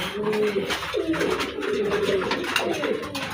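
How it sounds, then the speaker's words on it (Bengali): Pigeons coo close by while being fed in the morning, several soft, throaty rolling calls overlapping in a steady stream with light background noise. "সকালবেলা খাবার দিচ্ছি কবুতরকে"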